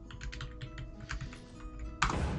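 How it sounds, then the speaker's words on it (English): Furious typing on a computer keyboard in the video game Assassin's Creed 2, a steady run of close, crisp key clatter for a couple of seconds, with a sharper, louder burst near the end and no talking. "Now you're the one typing away furiously."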